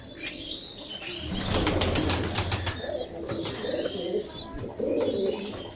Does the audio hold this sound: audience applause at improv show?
no